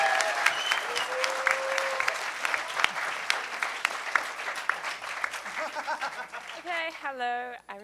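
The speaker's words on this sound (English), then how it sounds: "Let's give a huge round of applause for the Meta Lab for getting that going." Audience at a hacker conference applauding, a sustained crowd clapping with some chuckles, fading out as a voice begins speaking at the end.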